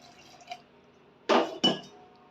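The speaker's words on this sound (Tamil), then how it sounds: "கொஞ்சம் தண்ணி விட்டுக்கோங்க" Water splashes into a pan of drumstick leaves in two quick, loud bursts, with light clinks of glass and utensils in a quiet kitchen.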